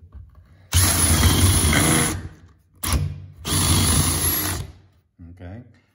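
A power drill bores deep into wood with a long drill bit, running loud and steady in two long bursts with a brief blip between, then winding down.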